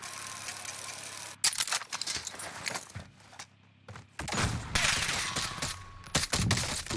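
Bursts of automatic gunfire in Call of Duty: Warzone come in sharp clusters separated by quieter gaps, some rattling close and loud, others more distant, with a few faint footstep-like sounds between.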